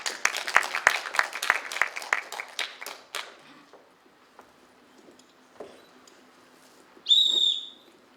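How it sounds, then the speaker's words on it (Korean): A crowd at a volunteer ignite event claps to welcome a speaker, a burst of applause for about three seconds that fades into quiet, followed by a short loud whistle blast near the end. "김현옥님 박수로 맞이하겠습니다"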